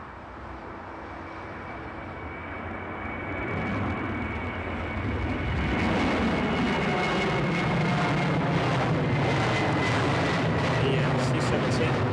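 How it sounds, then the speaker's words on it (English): Indian Air Force C17 transport aircraft moving at East Midlands Airport, a rumbling jet engine roar that swells and grows louder midway, then holds steady and broad. "The C17 is now on the move."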